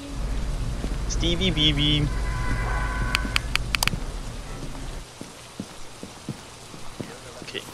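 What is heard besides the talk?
rain in the video game Phasmophobia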